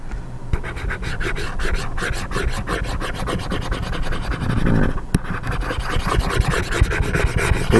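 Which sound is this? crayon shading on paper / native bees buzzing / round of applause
crayon shading on paper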